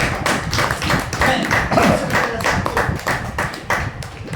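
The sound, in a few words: audience clapping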